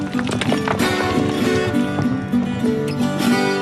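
Horse hooves clip-clop steadily along a steep mountain path in Madeira, a close rhythmic clatter under a busy, layered background.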